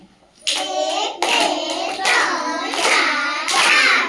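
Children clap their hands five times in an even rhythm, each clap joined by voices chanting along, close and fairly loud.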